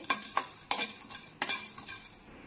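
Whole spices such as cloves, star anise, mace and cardamom are tossed in a dry pan, giving a few sharp scraping stirs with light rattling between them, close and quiet.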